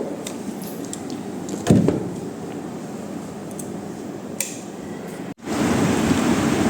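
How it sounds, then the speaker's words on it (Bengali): Rain falls outside as a steady, even hiss of moderate loudness, with a brief louder knock early on and a short break before the patter resumes, and no one speaks. "এই তো বাইরে বৃষ্টি হচ্ছে"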